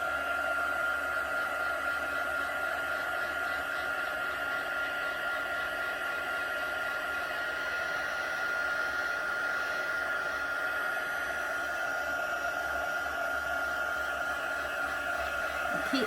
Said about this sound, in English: keep the dryer moving all the time